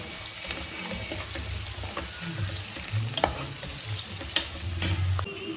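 Green chilies fry in oil in a pan while cooking ghee rice, giving a continuous, close sizzle with occasional scrapes and clinks of a stirring utensil.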